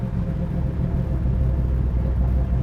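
A 1967 Chevrolet Camaro engine rumbles steadily and loudly from inside the vehicle, a deep continuous drone without talk.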